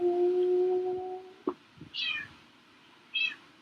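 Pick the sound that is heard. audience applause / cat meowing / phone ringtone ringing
cat meowing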